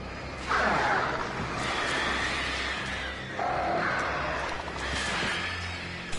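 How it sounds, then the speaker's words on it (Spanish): Birds in the video game Alan Wake coo repeatedly over a dense, steady ambient backdrop, the soft calls recurring in several swells across the stretch with no talk. "qué pesados los pajaritos estos."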